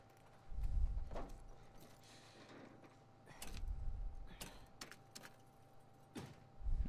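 Horse hooves clop in the video game The Last of Us Part II, a few irregular, soft thuds spaced apart over a quiet background.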